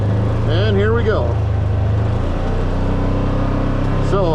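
A Polaris RZR XP, in all-wheel drive and low gear, circles slowly at full steering lock, its engine a low, steady hum while a voice talks briefly over it.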